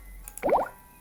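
Short cartoonish splash effect from a Flappy-style fish game built on code.org, a single bright watery plop lasting about a quarter second, heard alone and fairly clear.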